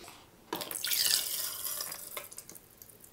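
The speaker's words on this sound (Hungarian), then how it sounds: "fél liter vizet fogok kimérni." Half a litre of water being run and measured out at a sink for a homemade cleaner, a steady close splashing stream starting abruptly and continuing with trickles and drips, no talk.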